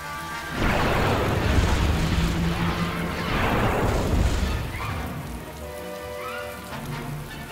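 Troops in Star Wars Empire at War open fire in a dense, crackling barrage of blaster shots and booms that swells loud for several seconds, then thins to a softer rumble.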